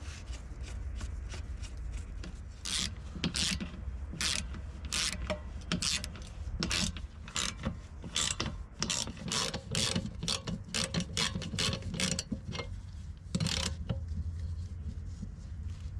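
Ratcheting clicks come in short bursts while a part is tightened on an abandoned Mercedes police G-Wagen, quiet and close, with pauses between rapid pawl clicks and rubbing mechanical sounds.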